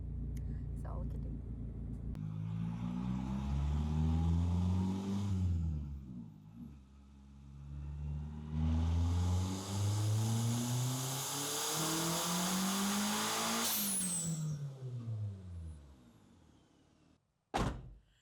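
A turbocharged Honda Integra on a dyno, engine revving in long sweeping pulls that rise and fall twice, loud and close, ending with a sharp thunk and brief quiet.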